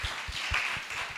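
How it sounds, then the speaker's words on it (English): An audience at a Kenyan water conference claps, with rapid overlapping hand claps forming a steady burst of applause, fairly close and continuous for the full moment with no talk over it. "We can do a better clap for him."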